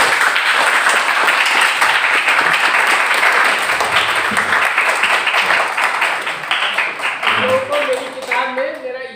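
Audience at a Hindi-language history lecture breaks into loud, sustained applause, a dense wash of clapping that holds steady and thins slightly toward the end.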